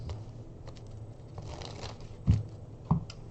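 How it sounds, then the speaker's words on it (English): A tarot card deck being shuffled at a table, with soft riffling and rustling and two sharper snaps of cards near the end, close and fairly quiet. "Let's get a few shuffles in before we do that because we have just put quite a few cards in."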